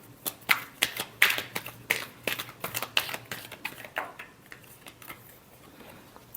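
Tarot cards are shuffled nearby in a run of quick papery slaps and riffling clicks that start dense and loud and then thin out and fade, with no voice.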